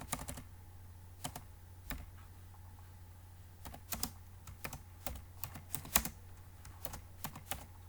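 Keys clacking on a computer keyboard while text is entered into a word processor for a document outline, steady irregular clicks at close range with no talking.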